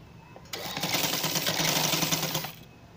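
A sewing machine stitches fabric for a peplum frock in one quick run of about two seconds, a close rapid mechanical whirr with a fast clattering rhythm that starts and stops abruptly in a quiet room.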